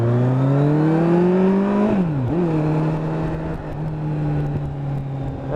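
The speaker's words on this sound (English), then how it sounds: "And you just love how the GTR accelerates." Kawasaki GTR 1400 motorcycle accelerating on a road, a loud close engine tone rising steadily in pitch, briefly dropping with a gear change, then holding a steady drone under wind rush.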